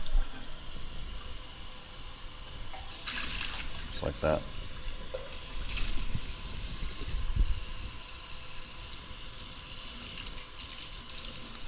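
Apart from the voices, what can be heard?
rinsing coffee dripper with cold tap water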